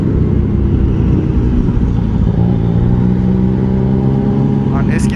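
A motorcycle engine holds steady in third gear around 3000 rpm, a loud continuous drone mixed with wind rush while riding on city roads, with a voice talking over it.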